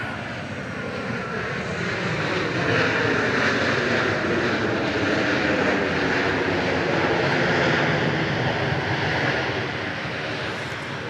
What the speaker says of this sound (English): The arriving flight was a 737-700 coming in from Tampa, Florida.